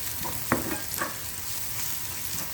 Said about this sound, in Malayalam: ഈ സമയത്ത് നമ്മുടെ സവോളയും ഇവിടെ ഫ്രൈ ആയിക്കൊണ്ടിരിക്കുന്നുണ്ട്.